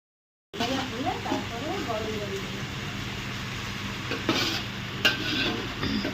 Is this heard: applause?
no